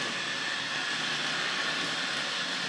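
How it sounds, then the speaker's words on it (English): Tri-ang model railway suburban train running in toward a far platform, a steady whirring rumble of small wheels and motor on track that stays even and fairly close throughout. "we'll just bring the suburban train in onto the far platform"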